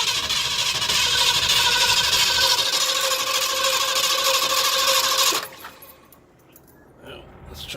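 A 1982 Ford 460 V8, unused for years, cranks steadily with a loud whirring, ticking starter drone for about five seconds without catching, then cuts off, leaving quiet shuffling.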